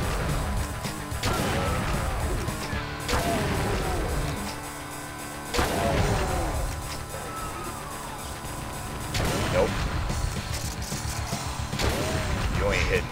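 Enemy gunfire in Doom 2 with the Complex Doom mod, heard on level 9 at Ultra-Violence difficulty: heavy shots crash out every few seconds amid a continuous game din, while someone talks over it.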